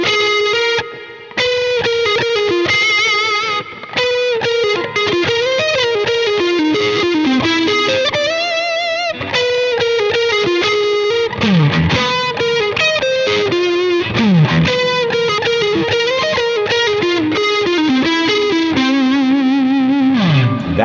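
Distorted electric guitar with effects and chorus plays a melodic interlude line an octave higher in a juke joint style tune, fast runs and bends filling the passage loudly and continuously with no talk.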